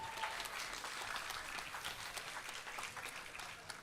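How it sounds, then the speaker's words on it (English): Audience applause at a live orchestral concert, steady dense clapping from a crowd, moderately loud and sustained throughout without a clear break. "So thank you for the clapping."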